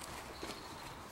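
Horse hooves clip-clop steadily on the footing of a dressage arena during a schooling lesson, a quiet, even stepping rhythm heard alone without talk.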